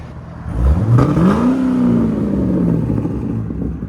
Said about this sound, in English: 2006 Chevy Corvette. We just did a muffler delete on it.